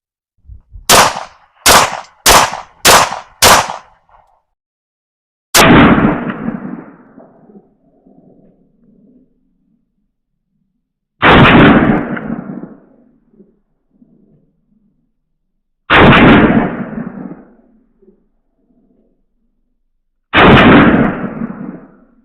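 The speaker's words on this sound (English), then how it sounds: "we have the regular Blazer 115 ammo, and we're going to shoot 5 rounds quickly" A pistol firing Blazer 115 ammunition: five quick, sharp cracks in fast succession, then four single shots spaced several seconds apart, each loud and close with a short fading echo.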